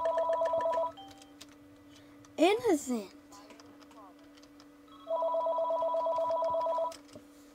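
A phone rings with a repeated electronic beeping tone in two bursts, loud and near, during a Roblox Murder Mystery 2 session; a voice briefly speaks between the rings.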